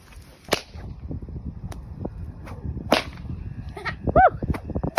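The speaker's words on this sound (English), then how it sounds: "He cracked the whip off the horse for the first time" A whip is cracked from horseback during cattle mustering in the rain, giving several sharp cracks over low rumbling background noise, with a brief animal call near the end.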